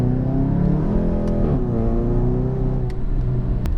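A Cobb Stage 3 tuned MK7 GTI with a catless downpipe drones steadily and loudly from inside the car, its engine note rising in pitch as the turbo spools, with a few faint clicks and no talking.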